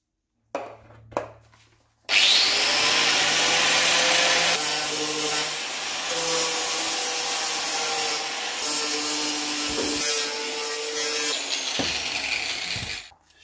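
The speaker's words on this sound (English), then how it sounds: "let's crack on and start grinding," An angle grinder works on a metal body panel for a 1972 Newport, starting with a couple of short taps before a loud, continuous abrasive grind that runs steadily close up with slight shifts in pitch.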